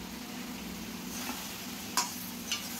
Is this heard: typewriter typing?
no